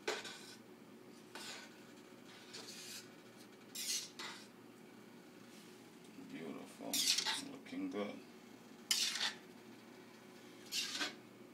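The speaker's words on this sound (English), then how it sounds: "Fork is the right thing to stir your rice" A fork stirs Jamaican-style rice and peas in a pot, giving scattered metallic scrapes and clinks against the pot in irregular bursts, fairly close and soft, with a faint background hum.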